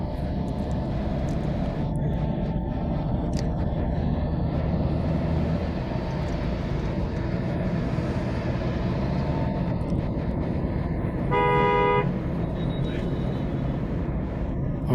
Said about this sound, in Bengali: তাই বাধ্য হয়ে হর্ন দিতে হচ্ছে।